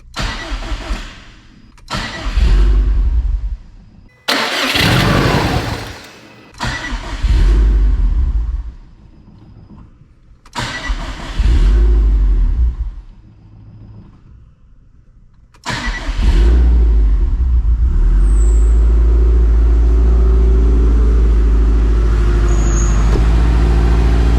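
A car with a brand new engine cranks in several loud, stop-start bursts after its fuel pump is plugged in, then catches and settles into a steady, rumbling idle that runs to the end.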